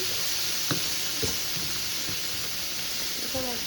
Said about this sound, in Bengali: চিকেন আর লেটুস পাতা একসাথে ভেজে নিচ্ছি